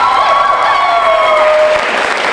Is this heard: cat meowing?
no